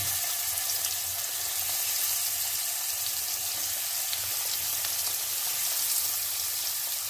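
Hot oil bubbling and frying in a pan, probably with fish, makes an even, continuous hiss that stays at one level throughout with no talk or stirring.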